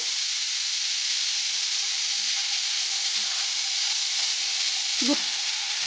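Vegetables with tomato and salt fry in a pan, giving a steady, close hiss and sizzle throughout, with a couple of faint clinks near the end.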